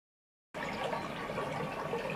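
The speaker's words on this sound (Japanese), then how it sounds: "こんなね、せせらぎの音で少しは涼しさをお届けできるといいんですけれども" Babbling stream water flowing steadily, a soft continuous gurgle and trickle that starts abruptly after a brief silence and stays even and close.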